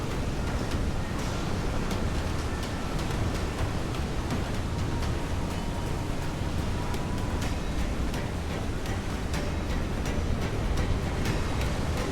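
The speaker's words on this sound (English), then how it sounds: "Waves to starboard!" Open-sea waves from Assassin's Creed IV Black Flag form a dense, continuous roar of rushing water and surf, loud and steady throughout with no voices.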